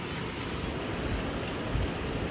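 Heavy rain pours down outdoors, a dense, even hiss of falling water that holds steady throughout with no voices over it.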